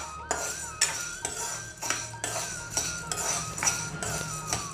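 Sabudana roasting in a pan while a spoon stirs it, giving repeated scraping and clinking strokes about every half second to one second, moderately loud and close, with no talking.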